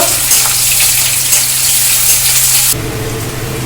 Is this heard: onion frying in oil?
yes